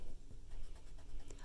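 A pencil scratches briefly across paper while a name is written, close and quiet, with short rubbing strokes.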